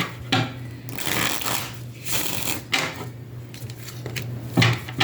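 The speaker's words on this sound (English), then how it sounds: "Shuffling these cards, and the change card stood up on one end." Tarot cards being shuffled by hand, a series of close crisp riffling bursts separated by short pauses, with a low steady hum beneath and no talk.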